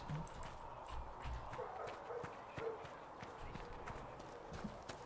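Horse hooves clip-clop rhythmically in the Dragon Age Inquisition video game, a steady galloping beat with a few faint whinnies over low background sound.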